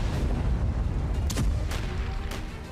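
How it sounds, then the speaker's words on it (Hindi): Artillery shelling in the war zone around Donetsk, Ukraine: a continuous low rumble of distant booms with several sharper cracking blasts standing out, no speech. "डोनेस्क में यूक्रेन की गोलाबारी जारी है"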